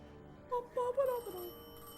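A telephone rings in the video game Destiny 2, a faint, brief burst of bright electronic ringing tones that fades after about a second.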